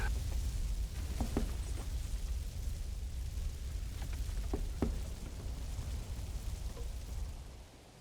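Rain falling in the medieval strategy game Manor Lords, a steady hiss of rainfall with a few brief knocks and pops scattered through, fading out at the end.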